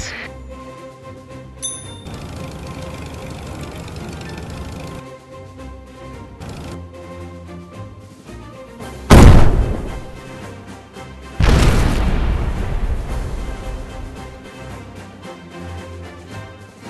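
Tank cannon shots and explosions in the Tank Stars mobile game, with two sharp booming blasts over light game music, each followed by a decaying rumble.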